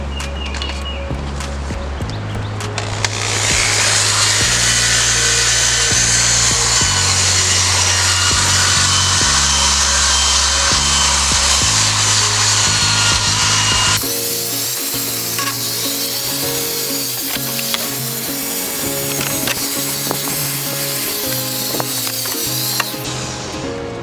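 A motorized drill brush whirs steadily while bristles scrub a car interior, with the pitch and texture shifting partway through as the scrubbing continues up close.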